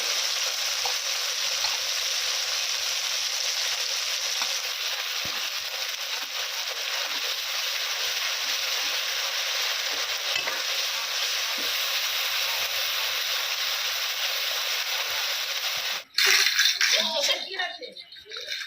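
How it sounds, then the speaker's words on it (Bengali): Ginger-garlic paste sizzles in a pan for a village curry, a constant close frying hiss for most of the stretch, then a sharp clatter and brief voice near the end. "আদা রসুন বাটা ভাজা হয়ে এসেছে"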